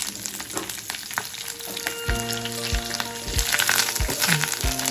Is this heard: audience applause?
no